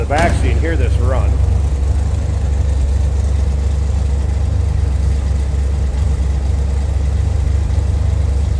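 A 1971 Chevrolet Corvette coupe with a 454 LS5 V8 idles steadily with a deep, loud rumble from the exhaust, while a voice briefly speaks over the first second or so.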